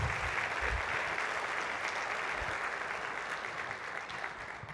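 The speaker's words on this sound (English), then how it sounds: "Can we give Ian another round of applause?" Steady applause from an audience fills the whole stretch, a dense even patter of many hands clapping at moderate distance.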